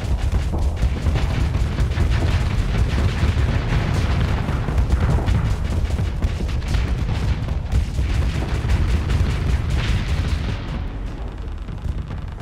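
Spaceship weapons in the game Starsector fire in a dense, continuous barrage of booming blasts and crackling impacts. The volley is loud and sustained, easing slightly near the end, and nobody speaks over it.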